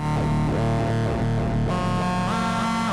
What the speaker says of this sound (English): A bit of delay and reverb going on post there.